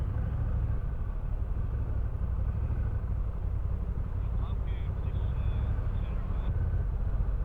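The pulley engines of an old ferry punt run as a dense, continuous low rumble and drone, steady and fairly close, with faint higher whines near the end.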